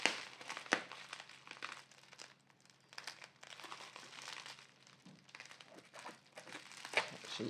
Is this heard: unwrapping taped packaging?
yes